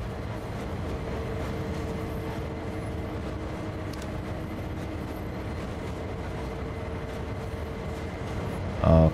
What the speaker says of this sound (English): Okay, the train is rolling.